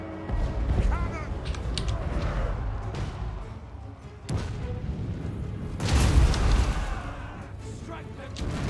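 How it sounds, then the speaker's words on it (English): Cannons firing in Total War: Warhammer, deep booming reports within a noisy battle, a sharp blast followed by a louder rumbling one, with voices calling out over the fight. "Cannon!"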